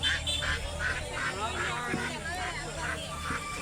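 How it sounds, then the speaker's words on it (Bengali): Native ducks at a busy village poultry market in rural Bengal quack in a quick repeated series, fairly close, over a background of crowd chatter and people talking. "এখানে বিক্রি হচ্ছে দেশি হাঁস"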